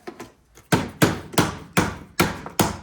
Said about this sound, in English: take a little hammer